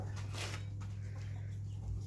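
Chickens cluck softly inside a large farm chicken coop, a faint, steady murmur of hens over a constant low hum.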